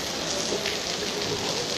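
Heavy rain pours steadily as a dense, even wash of hiss, loud and close, with no pauses across the short stretch.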